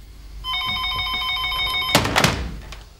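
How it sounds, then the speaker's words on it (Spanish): A telephone rings loudly and steadily for about a second and a half with a bright electronic bell tone, and then a few thumps and handling knocks follow, as if the receiver is being picked up. It sounds close by, indoors, with no talk. "Teléfono."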